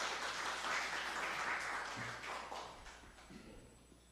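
An audience at an academic international conference session claps to welcome the session chair, a lively burst of applause that gradually thins and fades, with a few scattered final claps and thumps.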